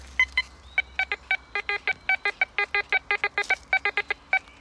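Metal detector in a forest beeping over buried metal, a rapid run of short, clipped electronic tones in an irregular stuttering rhythm, loud and close with no talk over it.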